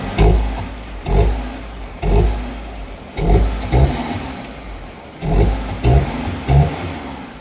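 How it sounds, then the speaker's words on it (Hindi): A car engine runs close by with a steady low rumble, pulsing in rhythmic surges about once a second as it is revved lightly. "इंजन की एक बार आप नॉइज़ सुन लो"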